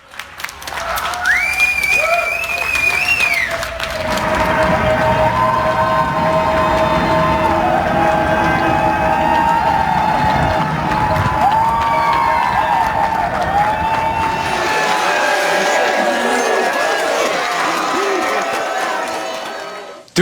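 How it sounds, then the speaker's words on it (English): A large crowd cheers and applauds loudly and steadily for frontline workers, with whoops and whistles over a sustained roar that swells and then fades after about fifteen seconds. "Please join me in cheering on these brave heroes."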